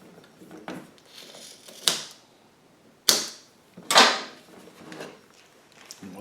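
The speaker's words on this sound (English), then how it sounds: "So I'm going to go ahead and cut the hose." A fuel hose being cut for a remote fuel tank setup, with three sharp, close snipping clicks spaced about a second apart over faint background handling noise.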